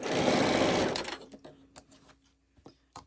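A sewing machine stitching pieces of a quilt block, a fast loud whirring run of stitches for about a second, then stopping, followed by scattered faint clicks and taps.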